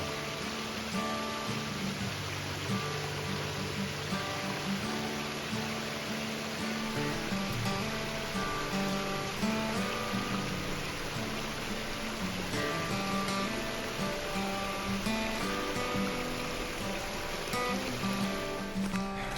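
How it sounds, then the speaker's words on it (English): A small waterfall along the Appalachian Trail, near a flood-swollen river, pours in a steady, broadband rush of falling water, continuous and even throughout with no talking. "A nice little waterfall."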